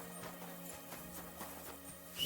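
Horse hooves clip-clopping in the medieval video game Kingdom Come: Deliverance II, a faint, steady rhythmic trot with no talk over it.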